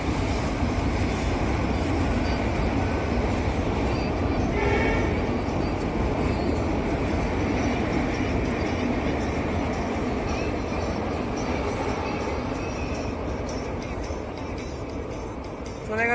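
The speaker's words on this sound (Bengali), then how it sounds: "চলে গেল ট্রেন, ব্রিজ পার হয়ে চলে গেল ট্রেন" A train rolls across the Bogibeel bridge near Dibrugarh, a long, steady rumble heard from a picnic spot at moderate distance, fading slightly toward the end, with faint background voices.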